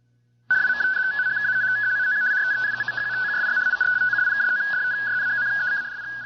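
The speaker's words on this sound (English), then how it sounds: "That's the sound of radio teletype" Radio teletype (RTTY) on shortwave warbles in a rapid, steady alternation between two close tones over hissy static, starting abruptly after a moment of silence and running on loud and continuous.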